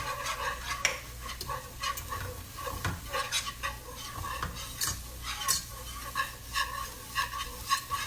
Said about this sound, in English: So go ahead and put your flour in and whisk it in.